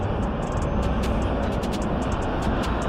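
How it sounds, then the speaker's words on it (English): Loud truck passing a roadside parking-lot campsite on the Oodnadatta Track in outback Australia, a heavy steady rumble and broad road roar, with faint clicking ticks above it. "That's a very loud truck that's going by, so hopefully those don't wake us up in the morning or during the night."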